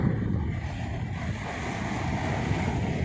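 Rough sea waves whipped up by the northeast monsoon wind surge steadily around a fishing boat out at sea, with wind buffeting the microphone in a constant loud roar throughout.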